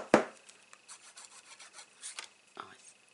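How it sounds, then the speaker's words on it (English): Paper being glued and rubbed down for a Stampin' Up place card, a sharp initial scrape followed by soft repeated rubbing strokes and a final rasp, close and quiet without speech. "And I'm just going to glue that to the end, and we're going to trim off the excess."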